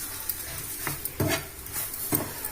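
Okra (bhendi) stirred in a hot pan gives a low sizzle broken by several sharp spatula scrapes and taps against the pan, close by and moderately quiet.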